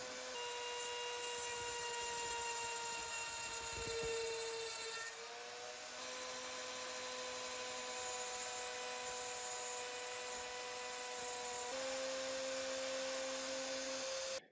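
A NymoLabs NBS-6040 CNC machine cuts a 1.5 mm step-down slot in brass, giving a steady, continuous whine with a high tonal edge that holds for the whole stretch, with a brief dip midway and no talking.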